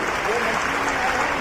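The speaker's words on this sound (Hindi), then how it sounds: "काफी तालियां बन रही है, तालियां बन रही है।" Crowd applause at a World Indigenous Peoples' Day ceremony, a steady wash of clapping lasting the whole short moment, with voices mixed in underneath.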